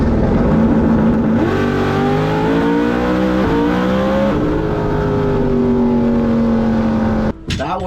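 IROC Z race car accelerating hard through a lap, a loud close engine roar whose pitch climbs through several gear shifts before lifting off near the end.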